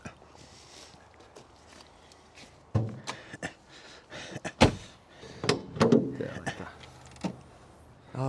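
A classic car's bonnet is opened, with faint handling noises, a couple of sharp metallic clunks and latch clicks, and some shuffling at close range. People talk nearby.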